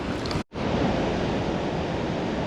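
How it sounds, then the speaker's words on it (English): Rushing backcountry waterfall, the bigger of two falls straight ahead, a loud steady roar of broadband water noise that drops out for an instant and then continues unbroken with no voices. "Two waterfalls. The big one straight ahead, and as I round the corner here, there's another one over to the right."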